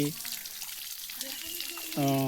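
Water gushes from hand pumps at Hattigutta in a steady, close rushing wash, with voices talking briefly at the start and again at the end.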